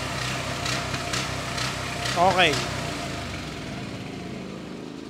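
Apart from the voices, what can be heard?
quiet home generator with push button starter running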